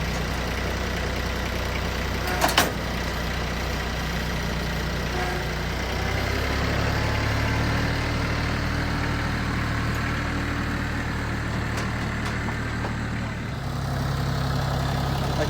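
Engine of a machine fitted with Vevor pallet forks idling with a steady low rumble, shifting in pitch as it drives up, plus a brief clank early on, with no talking.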